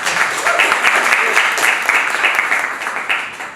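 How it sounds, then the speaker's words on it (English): Steady applause from an audience at a live talk event, dense clapping sustained throughout with slight swells, fairly loud and close. "give yourselves and TC a big round of applause for"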